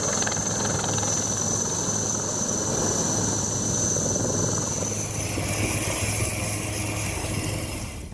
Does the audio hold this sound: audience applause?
no